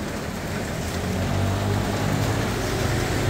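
Steady rain falls on a street corner in Taipei, a soft continuous hiss with light patter, even and unbroken throughout with no voices.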